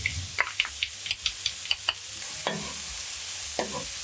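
Vegetables with ginger and garlic stir-frying in a pan for a healthy Chinese-style dish, with a steady sizzle broken by repeated scraping and clanking stirs from a spatula, close and fairly loud, no talking.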